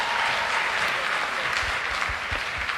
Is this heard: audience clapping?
yes